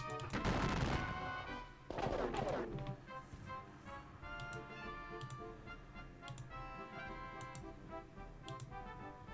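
Gunfire effects in a Battle of Waterloo computer wargame: two loud crackling volleys in the first few seconds, then a quieter stretch of scattered sharp ticks and clicks against a steady background.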